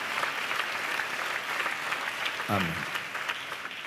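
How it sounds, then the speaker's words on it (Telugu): A church congregation claps together in praise during a sermon, an even, moderately loud patter of many hands throughout, with one voice briefly calling out over it. "అందరం చప్పట్లు కొడితే యేసయ్యకు స్తోత్రాలు చెప్తాం"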